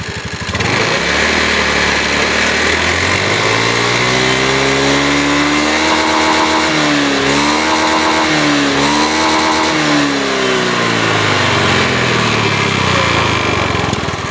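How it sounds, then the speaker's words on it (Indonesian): A Honda Beat scooter engine, running on its ECU, is revved briefly from idle. The pitch climbs and falls in smooth waves and stays loud and close throughout. "Coba kita gas sebentar ya, sedikit aja ya."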